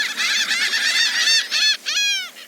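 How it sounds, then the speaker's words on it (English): Many birds call loudly and close by, overlapping honking cries with shifting pitch sounding continuously as a flock descends onto a fishing boat to snatch the catch, with a brief gap before a final drawn-out call. "lots of birds came down from the sky, and they began to take all the fish from his boat"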